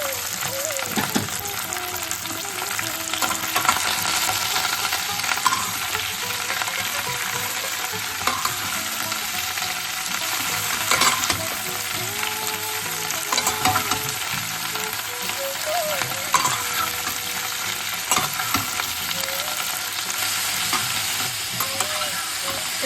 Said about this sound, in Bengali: এদিকে সবজিটা আমাদের প্রায় ভাজা হয়ে গেছে